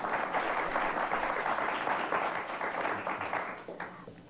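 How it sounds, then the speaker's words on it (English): Audience applause for panel guests at a televised interview, a steady dense wash of clapping that holds for several seconds and thins out toward the end. "let's give them all a round of applause, please"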